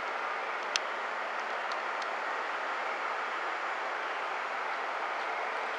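The Akita Cruise Train, a four-car tourist train on the Oga Line in Akita, Japan, runs past with a steady, loud, even rumble, and one sharp click sounds near the start.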